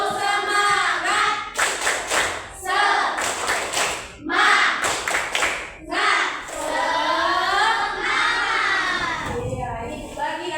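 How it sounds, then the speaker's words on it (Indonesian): Schoolchildren in a classroom doing a rhythmic spirit clap, bursts of patterned claps and thumps mixed with the children chanting along, close and lively with pauses between phrases. "1, 2, 3, tepuk semangat."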